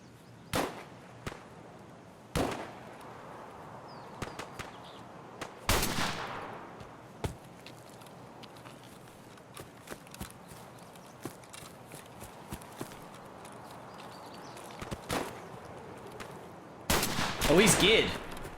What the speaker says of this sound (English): I ended up getting into a gunfight with a 2-man squad